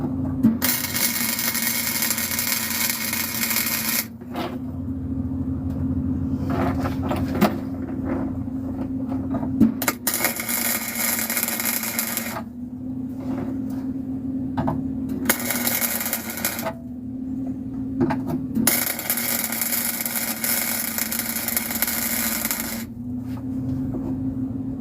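Welding a broken seat mount on a Fox Body, long loud bursts of crackling, buzzing arc noise broken by short pauses between beads, steady hum underneath, close and continuous without talk.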